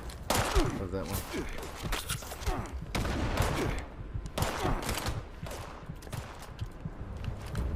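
Gunfire in Fallout 76 comes in repeated automatic bursts, loud and close, with brief lulls, and a voice talks over the shooting.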